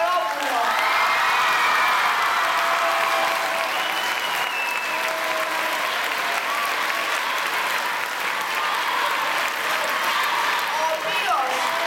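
An audience at a school tribute event breaks into sustained, loud applause, a dense wash of clapping that holds steady for the whole stretch with a few faint whoops mixed in.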